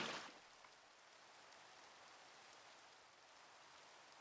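Soft, steady rain hiss in a video game after a brief louder burst at the start, continuing faint and even with no other sounds.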